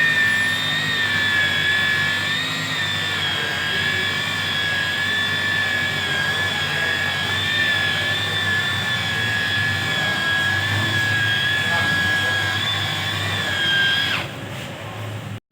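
A power sander grinds sandpaper across a surface, a loud steady high-pitched whine with strong tonal bands that holds for about fourteen seconds, then cuts off abruptly near the end.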